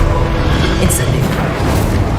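Incendio fire spell blast in Hogwarts Legacy, a loud sustained low roaring rumble with crackling texture that holds steady from start to finish.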